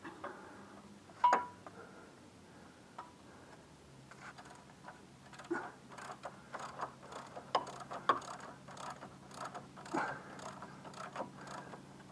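A 3/4-inch ratchet wrench turns bolts on the track of a Caterpillar 267B, giving irregular runs of light mechanical clicks and ticks at moderate distance, with a few sharper knocks in between.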